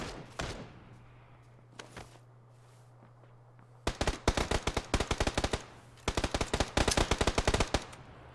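Gunfire in an Xbox One X battle royale championship match: a couple of isolated shots early, then two long, loud bursts of rapid automatic fire crackling close by, separated by a short lull.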